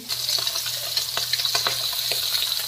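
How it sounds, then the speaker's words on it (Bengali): Pangas fish frying in oil: a constant bubbling sizzle with small pops and crackles, steady and close. "মাছটাকে আমি খুব ভালো করে ভেজে নেব"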